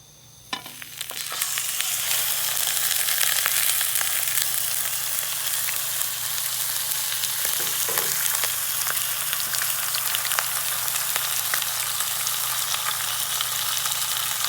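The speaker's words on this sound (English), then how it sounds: "Go and let the fish fry for a little bit" Surf perch fries in olive oil in a pan on an outdoor propane grill, a steady close sizzle that starts with a few clatters and then holds a bright, even crackle throughout with no talking.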